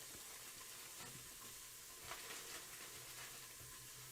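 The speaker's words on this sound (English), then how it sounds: "Now you can hear everything sizzling." Keto soup vegetables, including jalapeno, sizzle in a single pot, likely an Instant Pot. The frying hiss is faint but steady, with small crackles and stirring sounds nearby.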